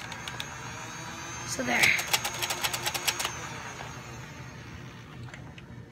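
A Rayven CS 18 machine held by its triangle grip revs in a quick run of sharp buzzing bursts, close and moderately loud over a steady mains hum, then fades; a voice speaks briefly.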